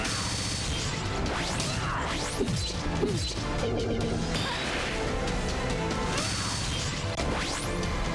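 Skullgirls fighting-game impact as a character is slammed against the screen: loud crashing smashes and whooshes over constant game music, with several sharp hits clustered midway.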